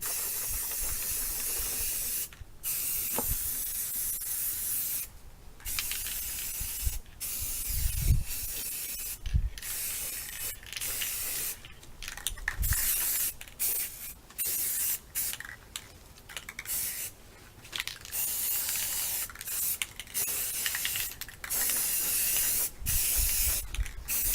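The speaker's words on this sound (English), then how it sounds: "we're simply going to spray paint them." Long hissing bursts of an aerosol can spraying enamel paint onto glass candlesticks, repeated over and over with brief gaps, close by and steady.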